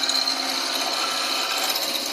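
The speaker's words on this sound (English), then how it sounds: "You can do this with a skew equally well as with a spindle roughing gouge." A spindle roughing gouge cuts a wood spindle spinning on a lathe at a woodturners club meeting, giving a steady, loud, continuous hissing scrape close by with no pauses.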